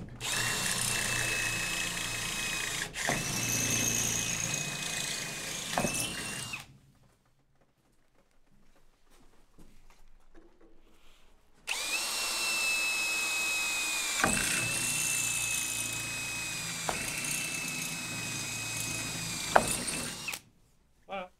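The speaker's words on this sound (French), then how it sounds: "je vais déjà commencer par faire mes trous" A power drill bores holes in the bodywork of a Peugeot D4B van, whining loudly in two long bursts separated by a quiet pause, close by with a rising pitch as each bit bites.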